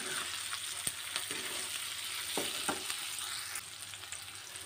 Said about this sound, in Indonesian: Aduk dulu sampai tercampur rata.